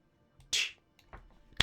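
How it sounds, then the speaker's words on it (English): A pair of hands claps down an alleyway, a single sharp, close snap followed by fainter smacks and a final crack. "clap of the hands."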